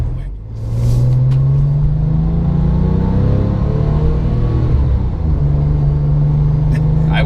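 A 2008 Porsche 911 GT2 (997) accelerates hard on turbo boost, a loud, close engine roar whose pitch climbs, dips briefly and climbs again in one sustained pull.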